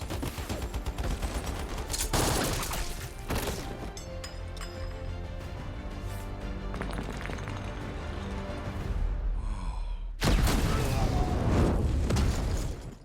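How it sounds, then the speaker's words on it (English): Two assassins fire guns wildly in an action thriller, with dense bursts of gunfire and loud booms mixed with a music score and clinking sounds, filling the scene from start to finish with a sharp surge near the end. "Unlike the previous enemies, these two were completely insane, firing their guns in every direction."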